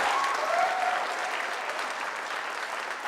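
Audience applause at a Khatu Shyam bhajan evening welcomes a guest, a dense, steady wash of many hands clapping at an even level throughout, with a faint tonal whistle-like line early on.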